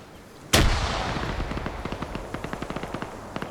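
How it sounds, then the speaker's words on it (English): A grenade explodes with a sharp loud blast in a military video game match, followed by a steady run of rapid gunfire pops. "You're just seeing grenades going everywhere at this point."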